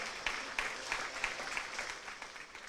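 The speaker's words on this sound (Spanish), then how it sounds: "Le damos un aplauso al Rey de Reyes." Applause at a church service honoring Jesus, a faint, steady patter of clapping from a crowd with evenly spaced stronger claps, heard alone with no talk.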